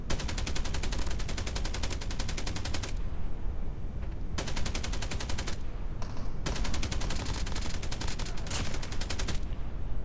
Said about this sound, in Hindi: फायरिंग की आवाज़ आई कहीं से